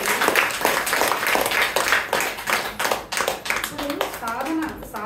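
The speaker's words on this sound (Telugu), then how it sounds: "చప్పట్లు కొట్టండి" Audience at a spiritual meditation gathering clapping together in a lively burst of many hands, heard alongside ongoing talk and a voice.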